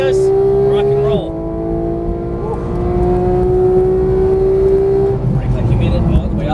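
A Porsche 911 GT race car accelerates hard on a track, its engine note climbing in a steady rising whine, dropping at a gear change, then climbing again, with someone speaking over it.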